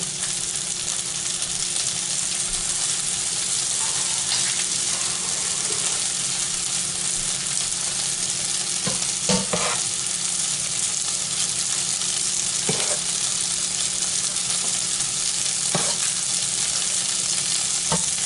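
Cajun pasta sauce with shrimp is stirred in a sizzling pan: a loud steady sizzle runs throughout, broken by occasional scraping knocks of the spoon against the pan.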